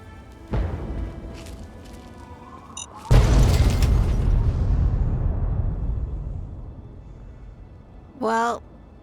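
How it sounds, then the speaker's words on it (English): A car explosion in Fallout 3 gameplay: a sudden heavy boom followed by a long rumbling roar that slowly fades, with a short thud earlier and a brief electronic tone near the end. "that was a big explosion"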